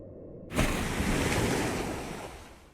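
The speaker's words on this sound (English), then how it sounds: "A torrent of black water violently spews forth from the bathroom mirror, as if flowing freely from an untapped fire hydrant." A torrent of black water bursts suddenly from a bathroom mirror in a video game, a loud, rushing gush that starts abruptly and then roars on steadily.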